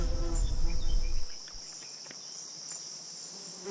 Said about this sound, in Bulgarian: Ето ги пчеличките.